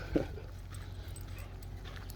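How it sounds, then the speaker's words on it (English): A single short dog bark or whimper sounds once near the start, then fades into a steady low background hum with no further calls. "Oh, cute dogs."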